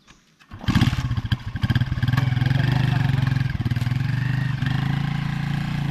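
A Rusi motorcycle engine starts up and runs at a steady, loud, throbbing idle close by, continuing without a break after a short quiet moment at the start.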